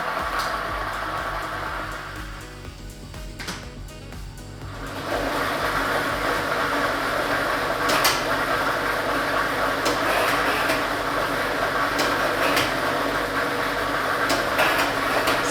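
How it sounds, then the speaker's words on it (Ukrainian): A lottery draw machine is switched on to mix numbered balls. Its loud, steady airy roar swells after a few seconds, with scattered rattling clicks of tumbling balls over the continuous blower noise. "І ми вмикаємо лототрон"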